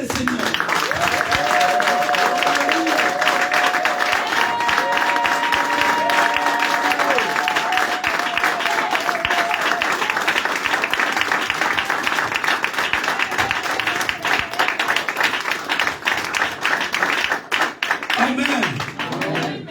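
A church congregation applauds and cheers for the Lord, with steady rhythmic clapping from a large crowd filling the room and voices and cheering mixed through it for the whole stretch.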